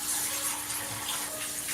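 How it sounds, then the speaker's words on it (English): Water runs steadily from a kitchen tap into a sink while cookies are being made, a continuous close hiss and splash with no talking. "Let's get the water running."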